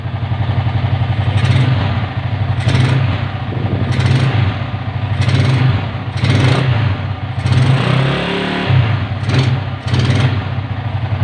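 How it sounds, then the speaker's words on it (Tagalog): Motorcycle fitted with a new Apido racing ignition coil, running after a kick start, with a loud close engine chugging in rhythmic surges and revs over several seconds, then sputtering as it dies. "Subukan na natin siyang pa-startin One click isang kick lang start na kaagad siya"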